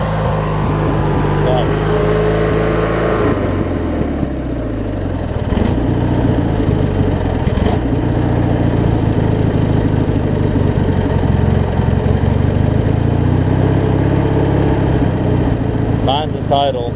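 Craftsman LT1000 riding mower with an opposed twin engine settles from revving into a steady low idle, loud and close, running alone throughout.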